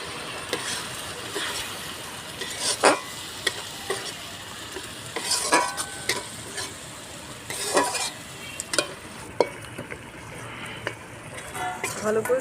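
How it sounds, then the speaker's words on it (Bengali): A ground paste of cumin, coriander, pepper, and dry and green chillies fries for a jackfruit curry, sizzling steadily while a spoon stirs and scrapes the pan in irregular knocks. "সুন্দর করে মশলাটা কষিয়ে কষিয়ে রান্না করতে হবে"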